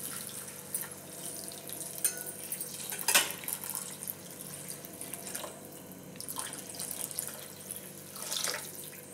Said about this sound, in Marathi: आपल्याला पाणी टाकून घ्यायचं आहे.